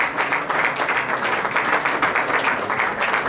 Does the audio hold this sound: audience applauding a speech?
yes